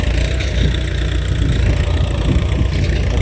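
A Ford 6610 single-axle tractor plowing a field has its engine running close and loud, a continuous rough, throbbing drone at a steady pace with no pauses.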